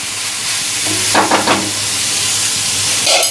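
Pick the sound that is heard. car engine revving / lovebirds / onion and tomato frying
onion and tomato frying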